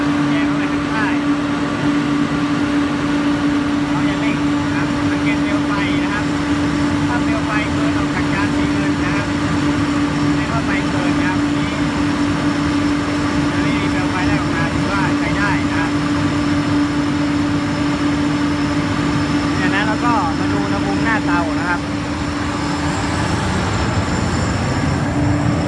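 Blower fan and gas burner roar steadily on a plastic regrind dryer, a continuous loud mechanical hum with a strong low tone, with brief faint squeaks near the end.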